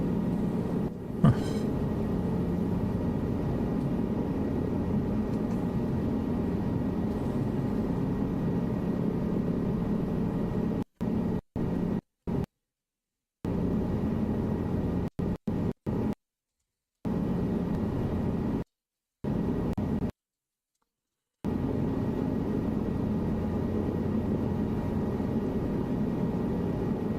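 Steady drone of an aircraft engine in flight in Microsoft Flight Simulator 2024, flying over the M4 motorway, a constant cabin hum repeatedly cut by brief silences.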